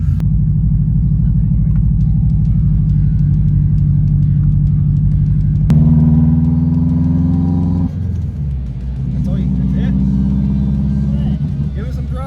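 Subaru WRX with air suspension cruising on the road, a loud steady engine and road rumble close by, the pitch shifting partway through as the car changes gear and carries on.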